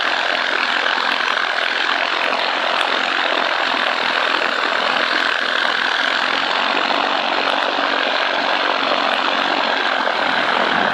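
A paramotor engine drones steadily through a flyby, loud and continuous with a broad propeller roar that holds near-constant for the whole stretch, no voices over it.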